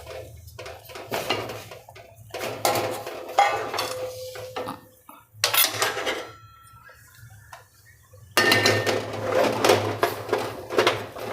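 Flour stirred bit by bit into khichu dough in a pot, heard as repeated close scraping and knocking of a utensil against the metal pot in uneven bursts with brief pauses.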